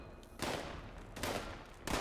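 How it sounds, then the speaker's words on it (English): Plasma gun fire in Fallout 76 comes as three loud, close bursts of sharp blasts spread across two seconds, with no talking. "Just going around pointing in my gun and shooting at things."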